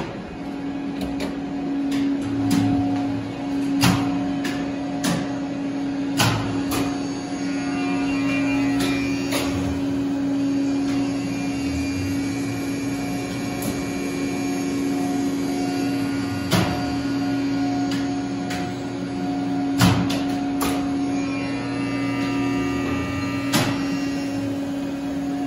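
The motor of a 1927 gearless OTIS elevator machine runs in a machine room, a steady electrical hum with a constant tone, overlaid by scattered clicks and relay snaps, close and moderately loud.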